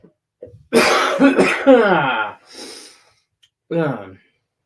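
A person coughs several times in a row, harsh and close, followed by a pause and one more short cough.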